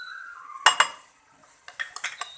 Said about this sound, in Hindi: 3 टेबल स्पून के करीब हमारे ये बादाम थे, ये इसमें ऐड कर दूंगी। और इसकी अच्छी तरह हमने मिक्सिंग कर लेनी है।